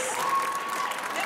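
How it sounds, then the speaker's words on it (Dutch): Brief burst of audience applause for a prize winner at a handbag exhibition in Kapellen, steady dense clapping with a faint high tone running through it. "Graag een dadelijk applaus."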